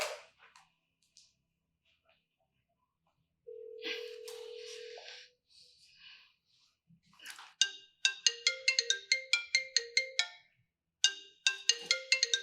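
A phone in a Nigerian drama scene rings with a melodic electronic ringtone, sounding in short bright bursts of quick tones after a brief beep and a pause, fairly close and clear.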